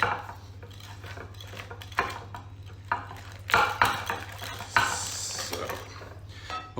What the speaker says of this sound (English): And then you combine that until it's nice and mixed up together.